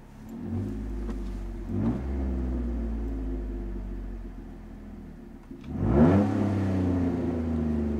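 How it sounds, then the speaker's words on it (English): A Jeep engine idles with a steady low rumble, then revs sharply as gas is given around the six-second mark, rising in pitch before settling back to a loud, close drone. "What happens if you give it gas? Give it gas right now?"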